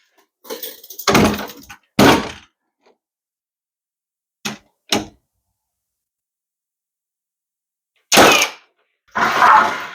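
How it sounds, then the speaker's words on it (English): An air nailer drives fasteners into wheelchair ramp boards, sharp pneumatic bangs in separate bursts, some doubled, with long silent gaps between them, close and loud. "use an air nailer just to set these"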